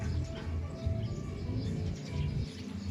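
Loud, busy bird calls and chirps fill the air close by, layered over a steady rumble of background noise with no voices.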